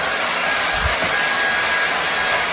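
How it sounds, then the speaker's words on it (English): Vacuum cleaner running steadily over a Levoit air purifier filter, a loud continuous broadband whoosh with a brief low thump near the start and no talking. "You can just vacuum"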